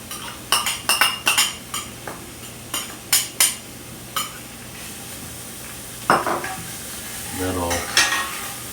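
Diced onion stirred into ground beef already sizzling in a pan: a run of sharp spatula clinks and scrapes against the pan, then a louder burst of sizzle and shuffling as the onion goes in, close with no talking.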